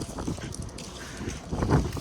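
Outdoor wind gusting over the microphone near a shopping area and park, an uneven low rumble with a stronger buffet near the end, fairly close.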